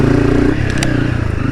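Honda CRF300 motorcycle riding in second gear on a bush track, its engine a loud, steady close-up drone with a brief rattle partway through.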